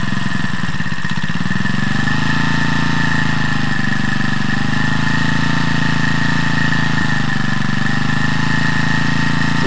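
Champion T334FS four-stroke brush cutter engine running steadily and loud throughout, a continuous droning hum with a slight rise and dip in pitch as the throttle is adjusted, no voices.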